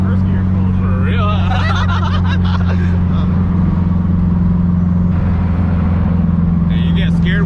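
A Nissan 240SX S14 with a turbocharged SR20 engine of over 400 horsepower pulls hard in fifth gear, a steady loud engine drone heard from inside the car with voices murmuring over it.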